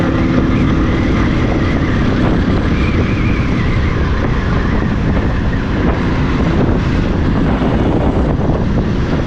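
Riding a motorcycle in pleasant weather: loud, steady wind buffeting on the microphone mixed with a continuous engine and road rumble, unbroken throughout with no talking.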